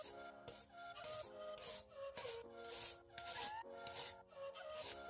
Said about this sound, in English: we're scraping away the soft wood